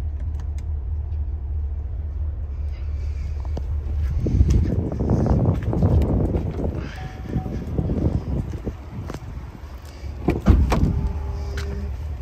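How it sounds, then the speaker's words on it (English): Power-folding second-row seat of a 2019 Chevy Suburban, a motor whirring and thumping close by as the seat drops, ending in a firm clunk, with a low steady hum underneath. "Power drop for the second row, which is a nice feature."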